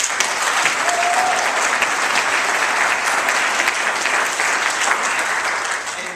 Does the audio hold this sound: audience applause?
yes